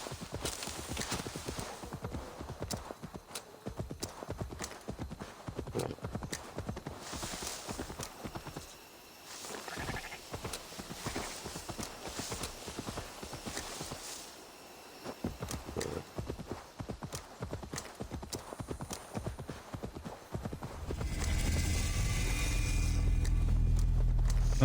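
Steady clip-clop of horse hooves in Assassin's Creed Valhalla, Wrath of the Druids, rhythmic and continuous, pausing briefly twice before a louder rushing noise at the end.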